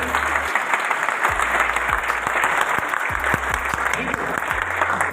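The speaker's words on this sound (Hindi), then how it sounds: "एक बार जोरदार तालियां के लिए बजा दीजिए।" Loud, sustained applause from a seminar audience at a motivational business-coaching event honouring a guest. Dense clapping runs throughout, with a voice and low thumping sound beneath it.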